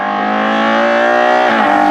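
A Ferrari Purosangue fitted with a full Novitec exhaust lets out a loud, steady engine howl with rich layered harmonics, the pitch holding then dipping near the end as the revs drop, close and alone.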